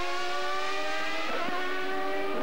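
A Benetton Ford Formula One car from the 1994 season screams past with a loud, high-pitched engine note that rises and shifts in pitch as it goes by, alone without voices.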